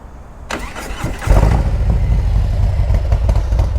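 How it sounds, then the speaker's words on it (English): A Harley-Davidson Road Glide Ultra motorcycle with loud aftermarket pipes cranks over and fires up, then settles into a heavy, steady idle rumble that stays loud and close throughout. "So this is at idle, and it's loud."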